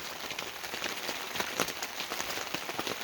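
Steady rain drums on Walmart canopy tents after hours of rainfall, a dense continuous patter of drops hitting the fabric at close range with no voices.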